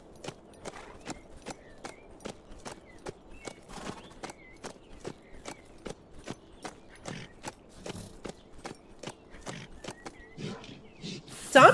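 Horse hooves in the zombie survival game HumanitZ, a long run of evenly spaced, crisp clip-clop beats at a steady trotting rhythm, close and fairly loud, with faint game ambience between strikes and a sudden louder burst at the very end.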